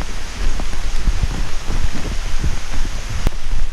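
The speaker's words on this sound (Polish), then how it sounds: "zsyła ten wspaniały deszcz, który rozmacza nam ścieżki pod nogami" Heavy rain pours down in a dense, continuous hiss in the mountains of Dalat, Vietnam, with scattered louder drops and splashes striking nearby surfaces.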